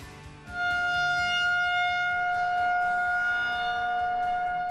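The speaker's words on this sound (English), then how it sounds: "Things were still pretty calm when these sirens sounded." Civil defense sirens sound outdoors in St. Peter's during a severe weather threat, a steady wailing tone rising in after a brief quiet start and holding loud and sustained, with no talk.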